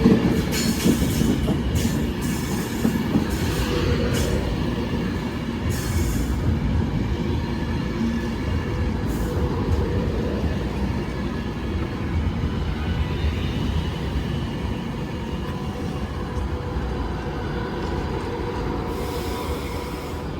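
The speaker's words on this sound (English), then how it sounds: "Train now departing is a 390 going to London." A Class 390 train pulls out of Stockport bound for London, a sustained rolling rumble of wheels on rail with rhythmic clicks and occasional squeals, slowly fading as it moves away over about twenty seconds.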